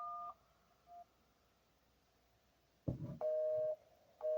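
A 5G phone dialing voicemail, giving a few electronic dial tones and beeps in short bursts separated by quiet gaps, with a soft clunk partway through, close and with no talking.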